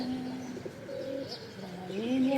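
Pigeons call in the morning while waiting to be fed, giving soft, wavering coos at moderate distance over a light outdoor background.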